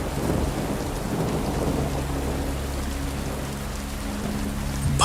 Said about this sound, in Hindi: बादल हैं, बूंदाबांदी हो रही है और भी डरावना माहौल बन गया है।